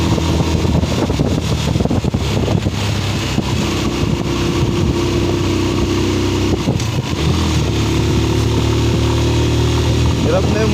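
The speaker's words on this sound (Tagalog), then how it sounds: "Hirap na yung motor ko, no?" A motorcycle engine labouring uphill on a mountain road ride, a loud continuous drone with steady low hum, wind buffeting the microphone throughout.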